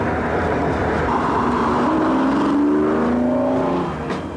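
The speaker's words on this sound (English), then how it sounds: "It's called the Diablo, and it's the fastest car in the world" A Lamborghini Diablo sports car's engine roars loudly and steadily, its pitch climbing as it pulls hard, with no voices over it.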